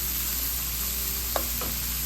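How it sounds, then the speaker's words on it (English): Green bell pepper and other vegetables sauté in a pan for a Cajun black-eyed pea dish, giving a steady close sizzle with a couple of brief stirring scrapes. "I'm going to let that cook down a little bit, and then I'll saute that up a bit until"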